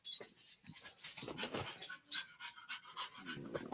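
A dog pants rapidly and close by, with quick breathy huffs and a few faint whimpery sounds, no voices.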